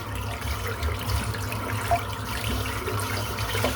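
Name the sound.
rinsing shaving brush under lukewarm tap water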